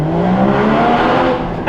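A Porsche Cayman GT4 engine roaring loud and close as the car drives under an overpass, a sustained rising growl that echoes off the concrete, then eases slightly near the end.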